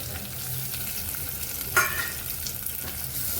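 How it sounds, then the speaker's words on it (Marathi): Sprouted urad beans sauté in hot oil with garlic, a continuous soft sizzle and fry with one brief louder scrape or clack of a spoon midway, no voices. "तेलावरती छान असं परतून घेऊया"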